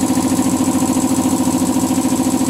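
A Blackridge 2.5HP belt-drive air compressor runs loud and close, with a steady pulsing mechanical drone and a fast, even rhythmic throb throughout.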